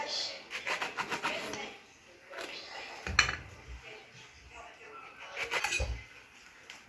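A knife cuts through bitter orange on a board for squeezing, giving faint scraping and soft dull knocks, with a few clinks of utensils, under someone talking.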